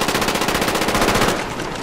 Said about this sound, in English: What the fuck are you shooting like that?